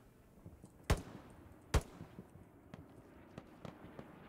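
Gunshots in a match at the Greyhound Cup, two sharp loud reports about a second apart followed by several fainter, more distant pops in a quiet background.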